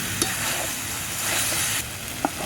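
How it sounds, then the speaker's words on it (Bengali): Fried jackfruit pieces sauté with spices in a pan, producing a loud, dense sizzle and hiss close up, with a couple of brief spatula knocks against the pan. "ইচড়গুলো মশলার সাথে একটু কষাতে হবে"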